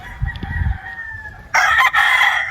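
A battle stag rooster on a farm crows loudly once near the end, a bright sustained call following a quieter earlier crow, with low rumbling background noise before it.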